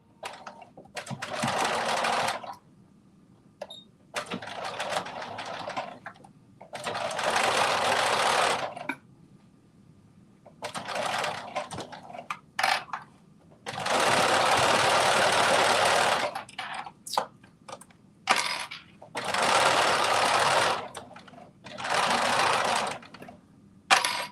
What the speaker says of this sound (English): now I am stitching this on and starting a 1/2 inch from the top